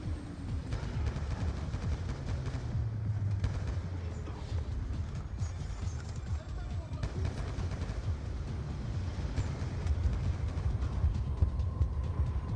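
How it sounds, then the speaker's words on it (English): Gunfire rattles in the video game Black Ops 2, dense rapid bursts and heavy rumbling blasts running continuously over a loud combat backdrop. "you're gonna want to get ready to shoot some dudes right here."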